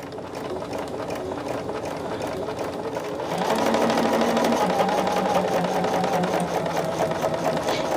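Home sewing machine stitching, a steady close mechanical hum and rapid needle chatter that grows louder and faster partway through.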